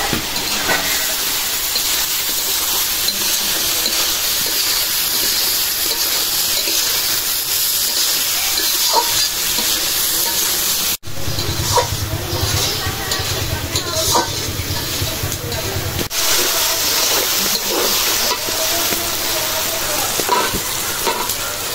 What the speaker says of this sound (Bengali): এখন দিয়ে দিব যে ভাজা রাখা চিংড়ি মাছ